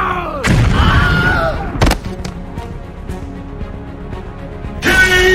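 Cartoon explosions in a funny horror animation go off as several sharp, loud booms with a big blast at the start and another near the end, separated by rumbling debris and scattered smaller bangs.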